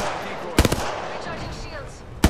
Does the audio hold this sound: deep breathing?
no